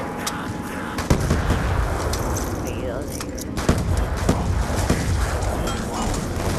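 Gunfire in Call of Duty Zombies on the Green Run map, a dense loud battle mix of rapid shots, thuds and bursts under continuous game noise, with players talking over it.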